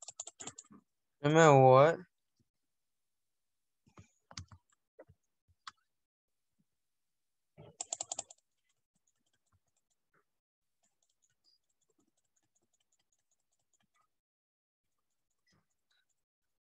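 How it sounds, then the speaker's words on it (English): Sparse, scattered mouse clicks during a Roblox game, a few quick taps in small groups separated by long silences, with a short burst of speech and a brief tonal sound early on. "Okay, so I'm going to keep clicking it,"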